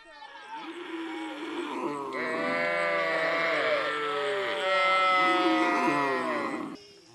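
Cattle and calves of the Mursi people in Ethiopia lowing and bleating loudly in the morning, several overlapping drawn-out calls close by throughout.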